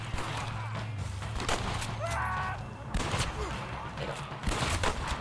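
Red Dead Redemption gunfire crackles in a rapid burst of close shots among game noise, with voices talking and shouting over the action.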